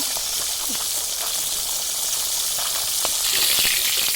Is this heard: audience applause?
no